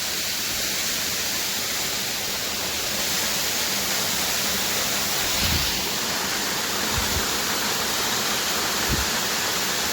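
Shanti Falls waterfall roaring as a steady, broad rush of falling water, continuous and fairly loud throughout, with a few faint low thumps along the way and no talk.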